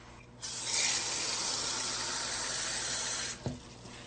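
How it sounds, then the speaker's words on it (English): Water runs steadily into an empty soup can for about three seconds, close and fairly quiet, then stops with a soft knock. "Put your finger over the hole and fill the can with water."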